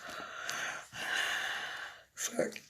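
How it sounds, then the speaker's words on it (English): A person yawns with long drawn breaths, a stretched airy exhale followed by a short gasp and sigh, close and fairly quiet. "I'm yawning"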